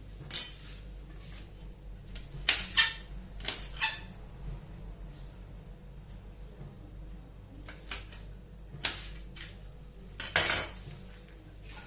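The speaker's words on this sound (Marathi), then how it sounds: "पूर्ण कैरी चॉप करून घेते मी" A knife chops raw green mango on a cutting board in scattered, uneven bursts of sharp taps, with quiet gaps between them and no talking.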